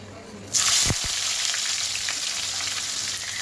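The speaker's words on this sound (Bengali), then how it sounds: "এবার আমি তেলের মধ্যে দিয়ে দেব কেটে রাখা পেঁয়াজ" Chopped onions drop into hot oil with a sudden loud hiss for cooking mutton curry with potato, a couple of clatters following before the sizzle settles into a steady crackle.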